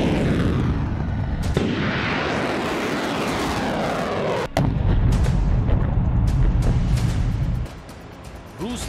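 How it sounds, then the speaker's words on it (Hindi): Iskander missile strike blowing up an American rocket system: a loud, continuous roaring rumble with sharp cracks and bursts breaking through, steady and heavy throughout. "इस्कंदर ने उड़ाए अमेरिकी रॉकेट सिस्टम।"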